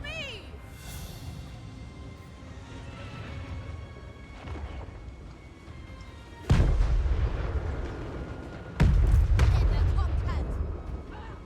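A golden fire explosion in the fantasy strategy game Total War Warhammer 3 hits with two sudden heavy booming blasts late on, above a bed of battle noise and scattered in-game voices.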